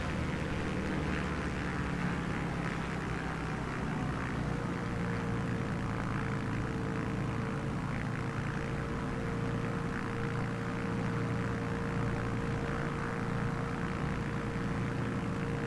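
A propeller airplane engine in a flight simulator video game drones steadily, a loud continuous hum with a faint whine and no talk over it.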